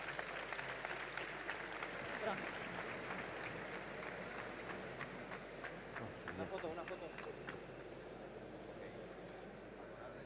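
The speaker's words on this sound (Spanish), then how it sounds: "Muchas gracias a los tres y un fuerte aplauso." An audience at a basketball-themed sports summit gives sustained applause, a dense patter of clapping heard somewhat distant and fairly quiet throughout.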